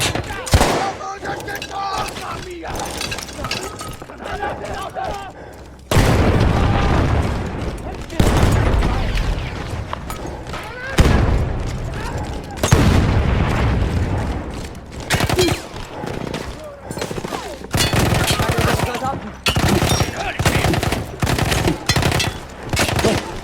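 Explosions and gunfire ring out in the World War I video game Battlefield 1, with loud, dense bursts and booming blasts that repeat in heavy waves over about twenty seconds and barely pause.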